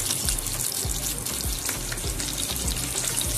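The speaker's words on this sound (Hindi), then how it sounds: "आप देख सकते हैं पैटी जो है वो फ्राई हो रहे हैं" Chicken burger patties fry in about three spoons of oil on a grill pan over medium-low flame, a close, continuous crackling sizzle with soft repeated knocks.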